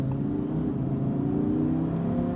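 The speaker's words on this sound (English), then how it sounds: "you got that engine right behind you" A 2017 Audi R8 V10 Plus, its 610 hp mid-mounted V10 sitting right behind the cabin, hums steadily from inside the car with a low, continuous engine drone and no talking.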